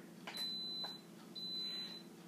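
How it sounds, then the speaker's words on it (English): An electric quick cooker beeps as pressurizing starts, giving two sustained high electronic tones in a row, clear but modest in level over a quiet kitchen hum, with no talking. "That beeping sound is telling you it's starting."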